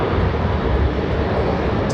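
A Boeing 767 airliner rolls down the runway at Raleigh Durham International, a steady broad engine roar heard from a distance without pause and no voices.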